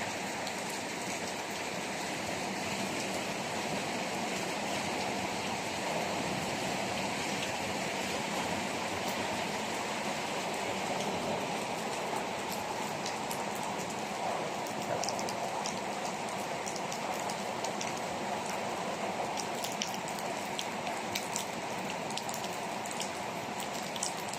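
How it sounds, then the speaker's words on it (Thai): Continuous rainfall patters on surfaces, a constant wash of drops with occasional sharper splashes, steady throughout and without talking. "ให้ชมบรรยากาศนะครับฝนตก"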